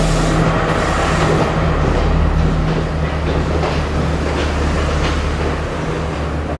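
A train pulling into a station on the Colombo to Kandy line in Sri Lanka, a loud continuous rumble of wheels and carriages with a low steady hum, close by and without speech.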